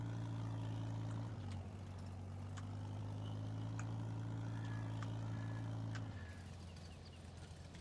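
A farm tractor engine idles steadily with a low droning hum, shifting pitch slightly twice as the revs change, accompanied by faint clicks and squeaks nearby; no speech.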